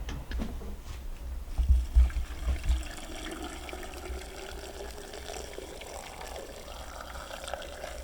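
Brine poured over eggs packed in a jar for pickling, a steady liquid wash with a few heavier splashing glugs early on, then a continuous low trickle.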